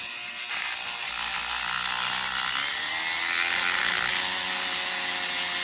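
A rotary tool spinning a burr while porting a part of a Stihl 193T chainsaw gives a steady high-pitched whine, speeding up slightly as the burr grinds lightly against the metal, close and continuous.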